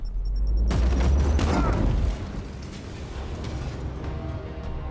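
A frag grenade goes off in the Warhammer 40,000: Chaos Gate - Daemonhunters video game, one loud, close boom that rumbles and fades into a lingering debris rattle.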